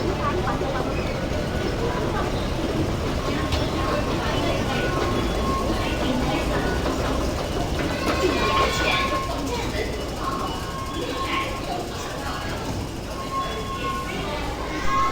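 A Hong Kong subway metro train rumbles steadily along with a broad, continuous roar and faint metallic squeals, while voices carry through the surrounding car or station noise.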